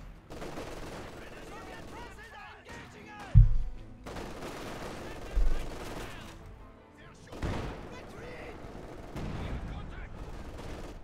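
Machine gun fire rattles in bursts in Company of Heroes 2, mixed with heavy booms from field guns, while a commentator talks over the battle.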